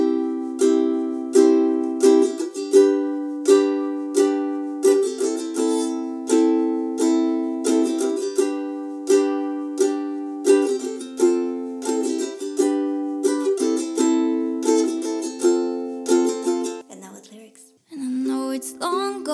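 Ukulele played alone through the pre-chorus of a song, steady rhythmic down-up strumming across several chord changes, close and bright for most of the stretch, before a voice comes in near the end.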